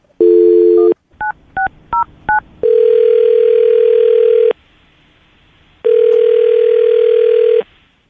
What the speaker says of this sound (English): I'll dial the phone number right now.